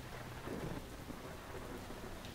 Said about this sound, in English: And now this is heavy thunderstorm, yeah?